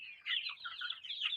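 Native farm chickens cluck in a steady stream of short, bright calls, fairly close and moderately loud, with no talking.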